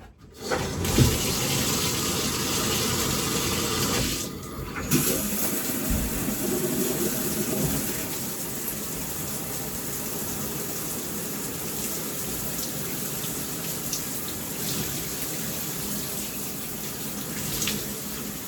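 Shower water runs continuously while hair is soaked, a steady close hiss and splatter that shifts briefly in tone as the stream is interrupted, with no talking.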